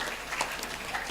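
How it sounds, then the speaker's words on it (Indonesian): Audience clapping at a school principal's speech, a steady wash of applause from a crowd in a hall, moderately loud and without talk. "Kita beri tepuk tangan buat ketuanya dulu dong."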